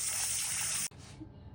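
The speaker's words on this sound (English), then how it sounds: "we're gonna wash our rice until the water comes kind of clean" Tap water gushing while rice is washed for arroz con leche, a bright, loud rush that cuts off abruptly about halfway through, leaving a faint quiet tail.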